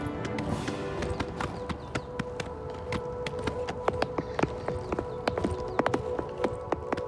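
Horse hooves clip-clopping in the video game Oblivion Remastered, a steady run of crisp, evenly spaced hoof clops over a low droning background, fairly close and clear with no talk.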